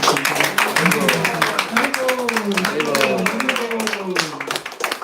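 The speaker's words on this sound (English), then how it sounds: "Let's give a big round of applause for Vivek." Audience applause for Vivek after a kirtan performance: dense, steady clapping from a gathered crowd lasts throughout, with voices chanting and talking over it.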